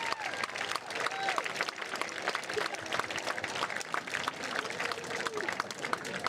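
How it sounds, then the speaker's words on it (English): Steady applause and crowd noise fill the stands at a South Tama County homecoming football game, a dense, continuous clapping wash for honoring alumni, with some scattered shouts mixed in. "Let's give a round of applause for all the South Tama County alumni here tonight"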